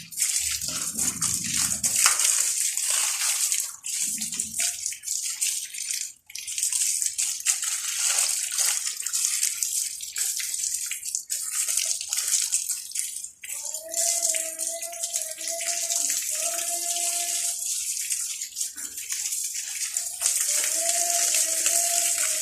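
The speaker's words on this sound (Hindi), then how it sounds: "तो आपने ज़्यादा से ज़्यादा ईंटों को पानी लगाना है।" Water poured onto bricks splashes and trickles steadily, with sloshing and pouring sounds throughout and a brief tonal hum in the middle.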